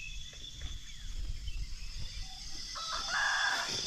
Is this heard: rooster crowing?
yes